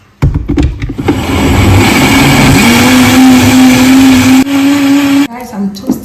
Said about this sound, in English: onion, and then blend it